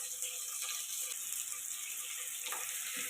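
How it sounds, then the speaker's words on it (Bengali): Boiled potato pieces fry in hot oil with a dense, steady crackling sizzle close up, a couple of faint stirring clicks near the end and no voice. "সেদ্ধ আলুগুলোকে একটু লাল লাল করে ভেজে নেব"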